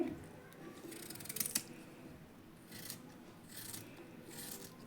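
A sharp knife cuts fresh ginger into pieces for pickling, giving faint, quiet slicing scrapes and a few short crisp cuts against a soft room hiss.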